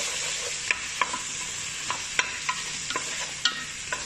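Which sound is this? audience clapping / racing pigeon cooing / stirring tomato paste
stirring tomato paste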